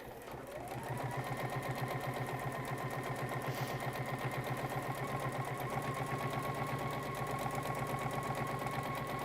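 A sewing machine stitches fabric in a steady, fast mechanical whirr that starts after a brief quiet moment and runs continuously at an even, fairly close level, with no talking.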